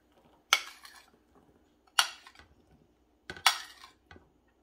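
A plate holding ham cubes and celery is handled in a kitchen, giving three sharp ceramic clinks a second or so apart, each followed by softer rattles and scrapes.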